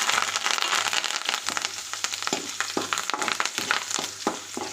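Curry leaves crackle and spit in hot tempering oil for a tomato and ivy gourd chutney, a close, busy sizzle with sharp pops and stirring scrapes, no talk.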